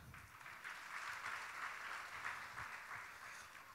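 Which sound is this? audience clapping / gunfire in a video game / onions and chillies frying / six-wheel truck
audience clapping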